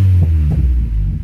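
A Honda H22A engine in a fourth-generation JDM car idles with a low, throbbing hum, steady and close, heard alone for a brief moment.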